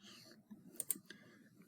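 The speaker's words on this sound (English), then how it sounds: "I want to assign this to Jessica, I can start typing her name." Typing on a computer keyboard: a few soft, irregular key clicks, two or three slightly sharper, heard faintly and close over a quiet room background.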